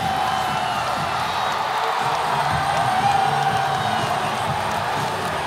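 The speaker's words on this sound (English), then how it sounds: "This crowd is in the game" A packed basketball arena crowd during a late-game scuffle at a PBA Commissioner's Cup game roars and cheers steadily, with whoops and shouts rising out of the dense, loud crowd noise throughout.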